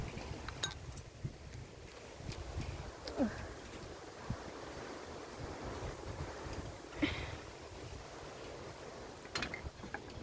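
Strong wind blows around a house in soft, gusty waves, with faint rustling, occasional buffeting on the microphone and a few light knocks, with no talking.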